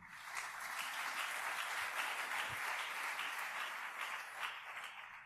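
A church congregation at a French-language servants' conference claps and cheers for the Lord, with steady, dense applause sustained throughout at a faint, distant level.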